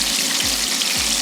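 Korean chicken wings frying in hot oil, a steady close hiss and crackle filling the whole clip with no talk over it.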